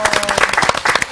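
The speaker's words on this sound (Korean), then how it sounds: "박수 한번 하죠." Short burst of dense hand-clapping from a Bible study class, close and lively for just over a second, with voices mixed into the clapping.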